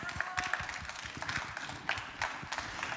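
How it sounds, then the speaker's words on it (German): Live studio audience applauding at the close of a university talent show, with dense clapping throughout and some voices mixed in. "Einen Applaus für unsere Talente"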